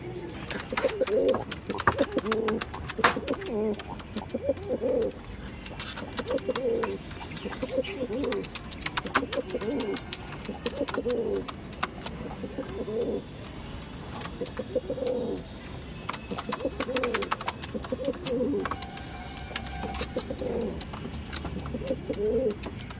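Several pigeons coo in a steady, rhythmic series of soft, low calls from close by, over a busy background of rustling and scattered clatter, with people talking at times.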